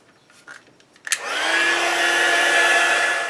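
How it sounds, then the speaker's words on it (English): After a few faint handling clicks, a heat gun switches on and runs as a steady, loud whooshing blower hum with a faint whine, heat-setting Gelatos craft paint on a crafting project. "I'm going to go ahead and heat it with my heat gun"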